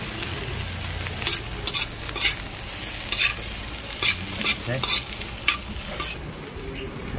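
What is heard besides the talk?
sautéing bell pepper and chili in a pan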